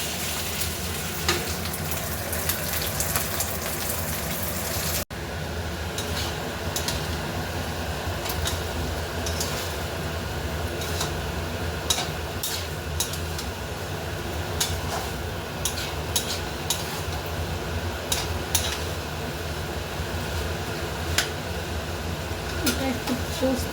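Rice and lentils fry steadily in a pan for khichuri, a continuous close sizzle with occasional stirring scrapes and clicks, while someone talks over it.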